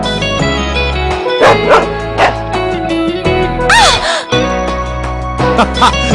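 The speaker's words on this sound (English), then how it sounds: "She's a smart dog, she won't bite." A dog in the video game Trauma Center: New Blood barks and yips repeatedly over steady synthesized game music, with short whimpering yelps scattered between the louder barks.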